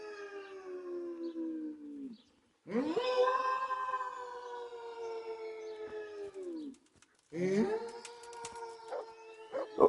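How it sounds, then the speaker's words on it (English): A small stray dog in Ledechko, in Kingdom Come: Deliverance, gives strange drawn-out howls in three long wavering bursts. The howls are separated by brief pauses and are loud and close. "he has a strange way of howling."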